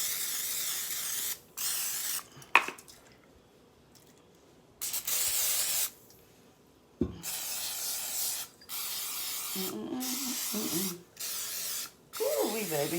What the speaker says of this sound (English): And I gotta spray it.